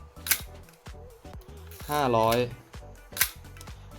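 A Nikon FE film camera's shutter fires at a high speed, giving two sharp, close mechanical clicks about three seconds apart. Someone speaks quietly between them.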